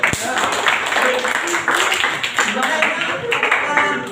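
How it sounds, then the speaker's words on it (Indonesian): Students in a motor vehicle engineering classroom clap for a classmate, a close, uneven patter of a modest group's hands with a sharp knock at the start and voices talking over the clapping. "Tepuk tangan Alvin"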